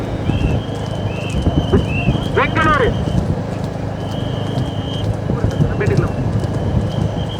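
Racehorses gallop in a horse race in Bengaluru, with rapid hoofbeats under a continuous announcer's commentary and crowd noise, plus occasional high whistles.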